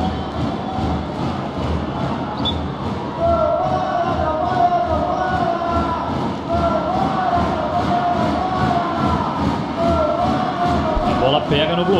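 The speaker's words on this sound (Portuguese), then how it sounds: "torcida do Praia fazendo a festa em Uberlândia" Praia Clube volleyball fans fill an arena in Uberlândia during a Superliga semifinal against Osasco, a dense, loud crowd roar with rhythmic chanting pulses and a commentator's voice underneath.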